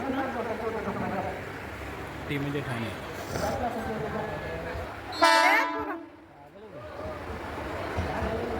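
A train arrives at a station, rumbling beneath a crowd's chatter, then gives one loud horn blast about midway before its rumble fades back under the voices.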